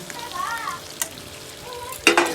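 Fried potatoes stirred into chicken cooking in a pan, giving a soft sizzle under a few sharp scrapes and clacks of a spatula, with a louder stirring clatter near the end.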